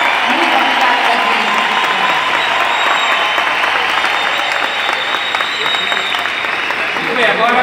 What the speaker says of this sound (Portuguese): E eu pedi uma grande salva de palmas ao nosso amigo Davi Menezes